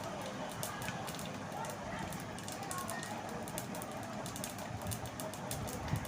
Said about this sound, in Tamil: நார்மலாக பண்ணுற கடுகு பொரிய ஆரம்பிச்சிச்சு.